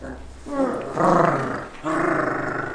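An eight-week-old cockapoo puppy growls in close, loud rumbling bursts, with two longer growls following a shorter one.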